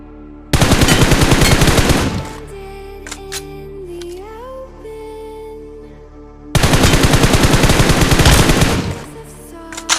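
Bursts of automatic gunfire in the PUBG Mobile battle royale game: two loud, sustained rapid-fire volleys separated by a few seconds of quieter in-game ambience and tonal effects.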